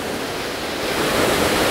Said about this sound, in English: a place called Shorty Falls, called a plunge waterfall where the water free falls without touching the underlying rock